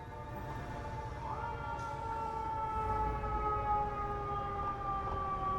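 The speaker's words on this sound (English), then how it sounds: "Here comes another fire truck." A fire truck siren on a New York City street in Brooklyn holds steady wailing tones that shift upward once, loud and continuous, with low rumbling traffic noise underneath.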